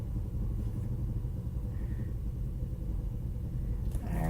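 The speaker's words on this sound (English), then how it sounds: "I don't know if you can hear his truck or not, but it's really, really loud." A loud truck engine idles with a steady low rumble that stays constant and close, with no clear revving peaks and no talk over it.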